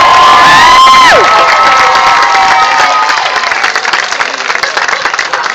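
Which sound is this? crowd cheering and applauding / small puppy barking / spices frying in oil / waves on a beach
crowd cheering and applauding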